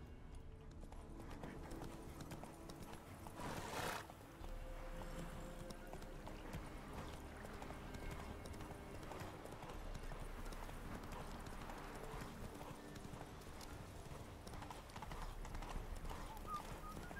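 Hooves of a galloping horse in The Witcher 3, a quick, steady clip-clop rhythm running the whole stretch at a moderate distance, with occasional low thuds and faint game ambience underneath.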